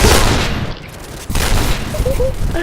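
Sniper gunfire in the shooting game Point Blank: loud, dense blasts and booms with rumbling tails, close and continuous across the moment, with faint game tones near the end.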